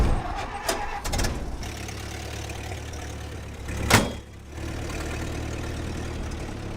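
An old Dust Bowl-era jalopy truck engine idles and runs steadily at close range, with a low continuous hum, a couple of sharp knocks near the start and a louder burst midway.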